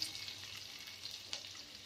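Onion frying in oil in a wok for gobi fried rice, a soft, fairly quiet hiss with small crackling bursts over just under two seconds, close and unaccompanied.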